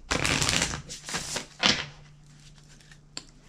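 A brisk rustle of tarot cards being shuffled twice in quick succession, close up, followed by a faint tap.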